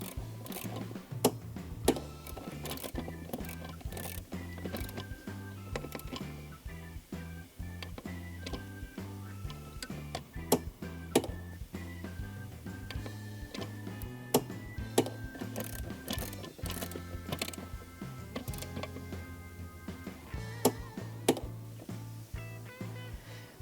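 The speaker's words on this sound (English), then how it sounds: "retighten the fasteners to 18 Newton meters" A ratchet retightens the battery bracket fasteners on a 2015 Audi A8 Quattro, producing rapid, repeated mechanical clicking in uneven bursts that runs continuously for over twenty seconds at a close, moderate level.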